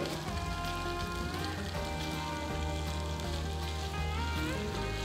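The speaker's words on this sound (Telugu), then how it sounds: "చూడండి, పన్నీర్ని ఒక 5 నిమిషాల నుంచి రోస్ట్ చేస్తున్నాను." Paneer cubes roast in a kadai with a steady, dense sizzle and crackle throughout, held at a constant level under a faint background hum.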